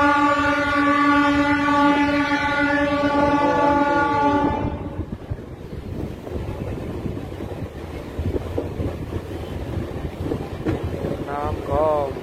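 A Ranchi to Asansol MEMU passenger train gives a long, loud horn blast, then its steady running rumble and wind rush carry on as heard from on board.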